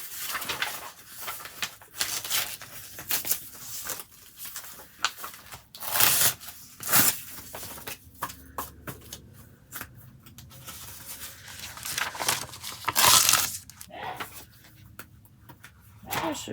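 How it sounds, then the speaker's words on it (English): Scissors cutting new craft papers from a book, a run of snipping and rustling paper sounds with louder crisp bursts now and then, close by and with no talk. "We're going to cut us some new papers."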